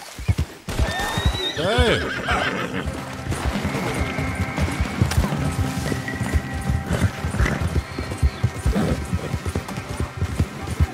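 A horse is ridden through a forest in Red Dead Redemption 2, with steady clip-clop hoofbeats, a loud whinny early on, and someone talking and shouting over the game sounds.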